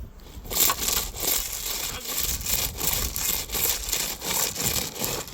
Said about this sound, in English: It's like sawing.